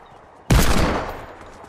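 A single loud hand cannon shot in the Fortnite video game, one sharp close blast with a decaying tail, alone with no talk.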